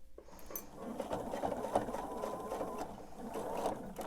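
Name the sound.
sewing machine stitching a table runner seam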